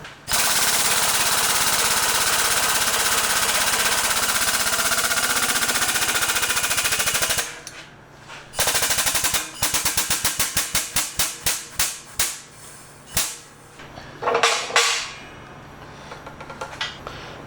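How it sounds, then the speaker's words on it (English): A 20 ton Harbor Freight hydraulic press crushes a soda can between two plates: a long loud continuous pumping clatter, then a rapid series of sharp rhythmic knocks that slow and fade, ending with a brief metallic crunch. "Let's press that can between these two plates."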